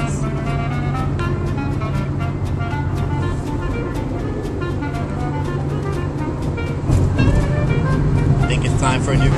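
Interior of an old, high-mileage jalopy with nearly 204,000 miles cruising on a highway, giving a steady, loud road and engine roar throughout that swells slightly near the end.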